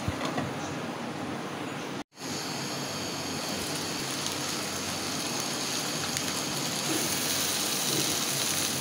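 Hilsa fish frying with spices in hot oil, a steady dense sizzle and crackle throughout, with a sudden brief dropout near the start before the hissing resumes unchanged.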